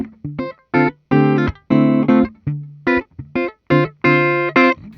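Gibson 1958-style Explorer mahogany electric guitar played through its neck pickup, a quick run of loud, distorted, chopped chords and single notes in a choppy rhythm, each stab cutting off sharply into brief gaps, with no voices.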